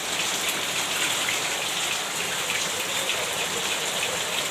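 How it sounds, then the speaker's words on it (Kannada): A heavy downpour in Gundlupet taluk, Chamarajanagar district, pours steadily and loudly, a dense unbroken roar of rain on surfaces close by with no talking. "ಭಯಂಕರ ಒಂದು ಭರ್ಜರಿ ಒಂದು ಮಳೆ ಆಗಿದೆ"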